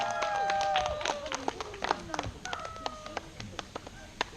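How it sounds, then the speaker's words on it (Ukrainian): Audience applause at a talent evening gala concert, a quiet, scattered patter of individual claps with uneven rhythm, fading into sparser sharp claps toward the end. "Ваші оплески, бурхливі, зустрічайте!"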